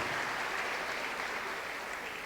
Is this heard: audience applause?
yes